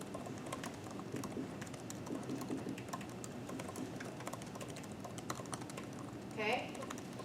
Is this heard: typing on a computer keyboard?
yes